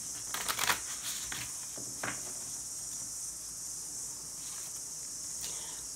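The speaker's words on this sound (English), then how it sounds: "That wasn't a particularly good shuffle." Tarot cards being shuffled by hand, a few quick riffling bursts near the start and again briefly later, soft and close over a steady high-pitched insect-like hiss.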